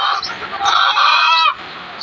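Farm chickens of an Egyptian breed give a lively run of clucking, loud and close, with one sustained call in the middle before dropping back to quieter background noise.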